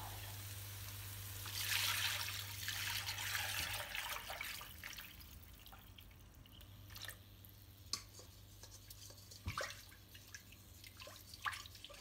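Water pours and trickles into a pot of yogurt and gram flour with splashing and dripping, over a low steady hum, then settles into occasional drips.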